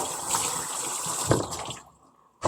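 Fish is washed under a running kitchen tap, with a steady close gush of water that thins out and fades near the end before a brief splash.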